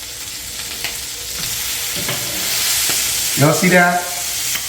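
Beef burger patty frying in a pan for a copycat Wendy's Double Baconator, a steady close sizzle with a few scraping flips and clatters, and someone talking briefly near the end.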